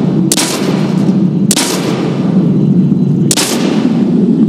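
Three sharp, loud gunshots from Call of Duty 4: Modern Warfare ring out at uneven intervals over a steady low rumble of in-game battle ambience, with no talking.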